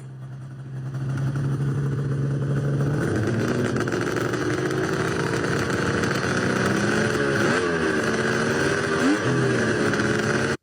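A loud Arctic Cat ZRT snowmobile engine idles then revs up, holding a rough, crackling exhaust note with pops and sputters near the end; close and continuous, no speech.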